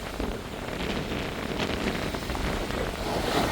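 Steady, loud rushing storm wind over churning sea water in Sri Lanka, a broad continuous roar with no voices.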